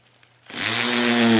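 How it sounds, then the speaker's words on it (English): A power drill spins up to a steady, loud whine while driving screws into a wooden diagonal brace on a pole woodshed; it starts about halfway in after a quiet lead-in and runs on without talk. "We'll go ahead and screw down this diagonal."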